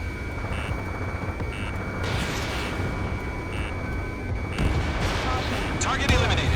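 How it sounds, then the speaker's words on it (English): Jet combat in Ace Combat 7 with a missile launch and gunfire, a steady roar of engine noise and dense rumbling blasts building toward the end, with radio chatter and alert beeps in the mix. "Missile launched."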